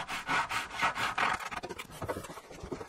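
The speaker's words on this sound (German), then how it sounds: "Quasi mittig in der Mauer fährt jetzt das Kapsägeblatt nach unten." Miter saw blade plunging down through wooden ceiling trim, a loud broadband rasping whine for about a second and a half, then trailing into quieter scraping and rubbing of wood, with no voices.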